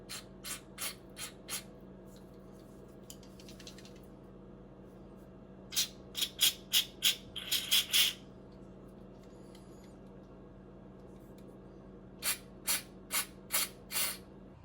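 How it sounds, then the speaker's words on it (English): Cleaner sprays from an aerosol can onto the MAP sensor of a Honda Insight in short, sharp hisses, first a few separate bursts, then a rapid cluster, then several more after a quiet gap, close by. "put this inside, and then just spray the living hell out of it that way"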